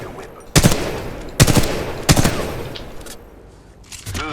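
Weapon gunfire in the video game Titanfall 2 during a training gauntlet, three sharp, loud bursts spaced under a second apart, each with a short ringing tail, followed by quieter mechanical clicks.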